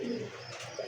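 Pigeons coo in a home loft where racing and fancy breeds are kept, a short soft cooing phrase close by with a second brief coo near the end, no talk over it.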